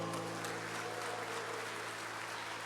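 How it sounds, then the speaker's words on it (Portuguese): A church congregation applauding during a sermon, a dense, steady wash of clapping from many hands at moderate distance, continuous for a few seconds with no voices. "Você aplauda fortemente ao Senhor"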